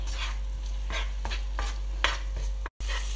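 Curry and brown rice stirred in a frying pan, a utensil scraping in repeated strokes over a steady, close sizzle, no talking.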